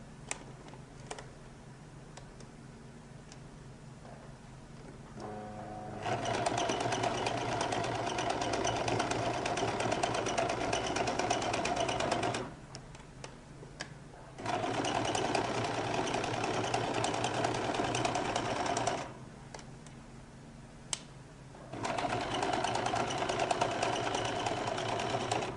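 A sewing machine running gather stitches through a lady's jacket lining, its steady motor hum coming in three long, loud runs separated by brief quiet pauses.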